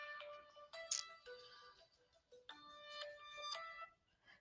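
A mobile phone ringtone plays alone: bright electronic tones in a repeating melodic phrase that runs a few seconds at moderate level over a quiet room.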